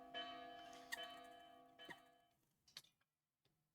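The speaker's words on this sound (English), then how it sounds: "That's the alarm bell from the Symmetry Tower." An alarm bell rings from a tower in the Fate/Grand Order game, giving several slow, evenly spaced metallic strikes that ring out and decay, fairly faint, with a sharper hit at the very end.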